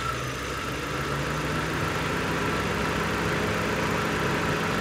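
A Nissan Sentra engine idles at close range during a P0300 misfire diagnosis with a faulty coil pack, giving a steady, even hum and low vibration across the whole stretch with no voices.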